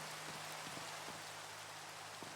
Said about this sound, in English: I know most people hate Minecraft rain, but I honestly... I kind of like it.